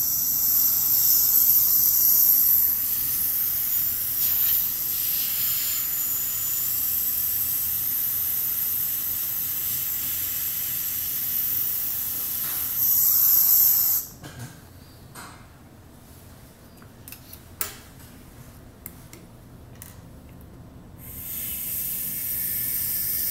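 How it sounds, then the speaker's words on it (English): Nitrogen gas blown from a nozzle to clean a PDMS surface in a lab: a loud, bright, steady hiss runs for about fourteen seconds and then cuts off, followed by faint handling clicks and a returning hiss near the end. "Put some nitrogen."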